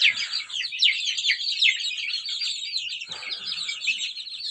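Month-old chicks peeping continuously in a dense, overlapping chorus of high chirps, close and lively, with a brief low rustle partway through.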